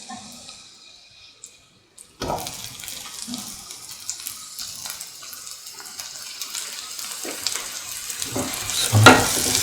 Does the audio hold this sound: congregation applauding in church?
no